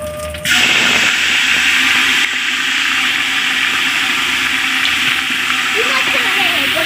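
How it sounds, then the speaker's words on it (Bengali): A pot of gota siddho, whole vegetables and lentils with ginger, panch phoron and chillies, bubbling steadily on the stove, a continuous rushing boil close by with a low voice faintly underneath. "কাকিমা গোটা সিদ্ধ বসিয়ে দিয়েছে"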